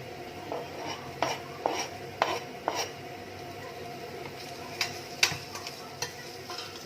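Beef shin being stirred in a cooking pot, with a steady sizzle underneath and a series of scraping, clinking utensil strokes against the pot at irregular intervals, close and moderately loud with no talking.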